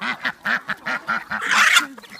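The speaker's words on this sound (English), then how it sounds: "We have the 2 geese." Two geese honk in a rapid, rhythmic series of nasal calls close by, ending in a louder, harsher burst and a final short honk.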